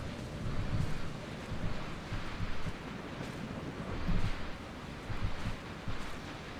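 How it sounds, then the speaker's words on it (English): Steady, rumbling wind blows continuously along a narrow cliff ledge in the video game Dear Esther, with gusty swells and low buffeting, filling the space without any voices. "I like how like windy it sounds."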